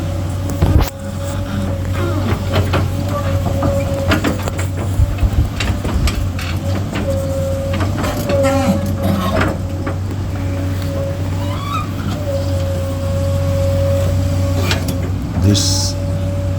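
A refurbished Sany SY215C excavator works as a compactor, refilling and pressing down soil. Its diesel engine drones steadily throughout with a constant low hum, and scattered clanks and knocks are heard over it, while a voice talks at times.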